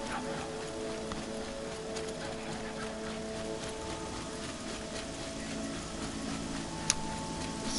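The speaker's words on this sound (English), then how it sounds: "is it ever gonna stop raining?" Steady rain falling in the Frozen Wilds area of Horizon Zero Dawn, a continuous hiss of drops on surfaces with faint tonal game ambience underneath and a single sharp click near the end.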